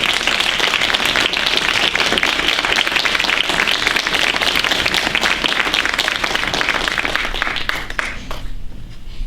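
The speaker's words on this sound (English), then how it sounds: "everybody give them a round of applause" An audience at a school awards program gives school administrators a loud, sustained round of applause that holds steady for several seconds before beginning to thin out at the end.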